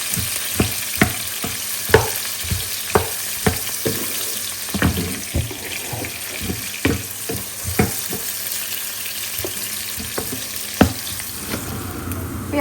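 Onions frying in oil in a pan with green chillies, turmeric and salt, stirred in steady repeated scraping strokes over a constant sizzle, close and fairly loud, with no talking.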